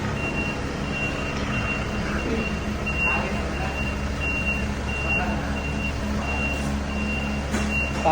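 A 2025 Isuzu Traviz truck sounds its reversing alarm, a steady series of high electronic beeps over a low idling engine rumble, fairly close and constant throughout.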